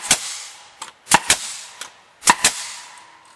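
A repaired Bostitch N16 pneumatic nailer on a compressor at full pressure fires several sharp, close air-driven bangs in quick irregular bursts, each crack separated by brief pauses.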